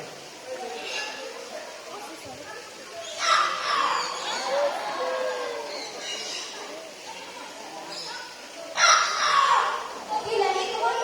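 A trained bird at a bird show mimics a rooster's crow in two loud drawn-out calls, with a lively crowd of children and adults chattering around it.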